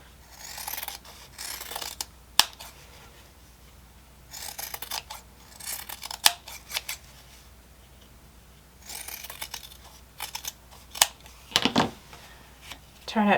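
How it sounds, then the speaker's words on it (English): Scissors trim the corners and seam allowance of a sewn fabric piece, with several bursts of close snipping and rustling cloth separated by quiet pauses. "Then I'm also going to trim off a little bit of the seam allowance just to lessen the bulk."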